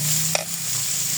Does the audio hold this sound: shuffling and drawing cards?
no